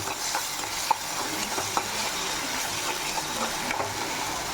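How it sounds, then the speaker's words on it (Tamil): Tomato paste sautéed and stirred in a pan for a chapati stuffing, a continuous close sizzle with light scraping from stirring and a couple of sharp metallic ticks against the pan, no speech. "அந்த தக்காளியை பேஸ்ட் அரைச்சி வச்சுருக்கேன், அதையும் போட்டுக்கலாம். அதையும் நல்லா வதக்கிக்கலாம்."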